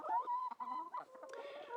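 Rescue hens kept in a pen on a smallholding give soft, close clucks and murmuring calls in a brief continuous run.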